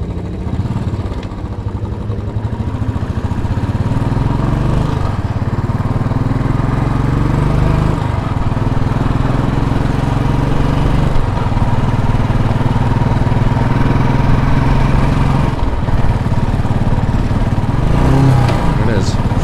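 A Royal Enfield motorcycle engine thumps loud and close while riding through Brooklyn, with a steady low drone, wind rush and gear changes, and a rider's voice occasionally heard over it.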